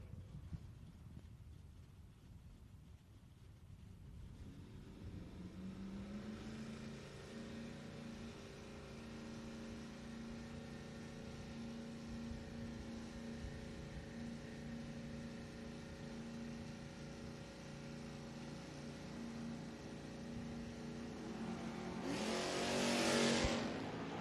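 A Chevelle and a Camaro at a drag racing bracket event idle and rumble at a distance in a steady low engine drone, building into a louder roar near the end as they launch.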